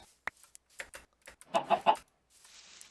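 Short clucks from a chicken in Minecraft, spread sparsely over a few seconds with quiet gaps between them. One louder burst comes near the end. Nobody speaks.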